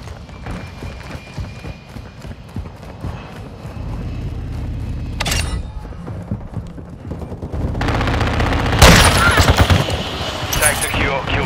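Gunfire in Call of Duty Modern Warfare II on PS5: loud bursts of rapid shots crackle over a steady battlefield rumble, with one sharp volley midway and a heavier, denser barrage near the end.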